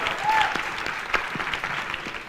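Fashion luncheon audience applauds, a brief steady wash of many hands clapping with a light crowd murmur.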